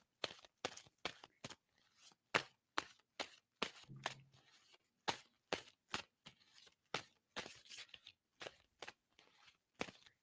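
Tarot cards are shuffled in a quick, irregular series of crisp riffling slaps, close and fairly quiet, roughly two or three per second with no talk.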